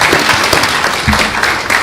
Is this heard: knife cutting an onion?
no